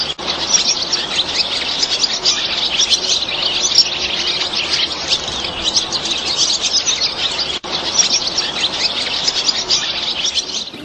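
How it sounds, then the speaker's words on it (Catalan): Swallow chirping in a steady, dense stream of high twittering calls, fairly close and continuous throughout with a brief dip near the end, no voices. "estic matant un ocell. Em carrego aquesta innocent oreneta"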